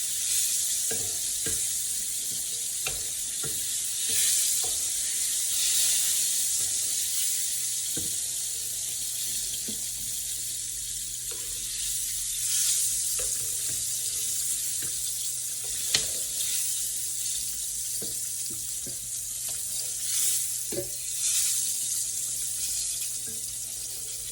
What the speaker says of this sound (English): now my fish is turned brown. It's cooking.